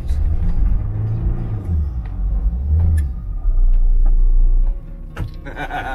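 A VW T3 Syncro van with a TDI engine drives offroad over wet grass at a festival on the Larzac, its low engine rumble rising and holding steady, with a brief clunk near the end.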